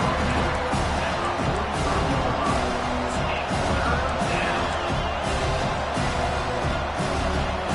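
A home crowd at an American football game roars steadily as the defense tries for a third-down stop, a loud, dense wall of cheering that carries on without letup.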